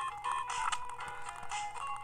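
A telephone call plays in the video game Zero4 Champ RR-Z, a warbling electronic ring tone of repeated chiptune-like bursts, steady and fairly loud with no voices over it.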